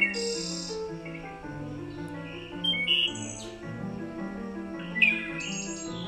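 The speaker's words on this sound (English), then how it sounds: "All right, so these are bird calls." Recorded birds chirp and trill in complex, overlapping tweeting patterns, with a few sharper whistled calls standing out, steady and clear with no talk.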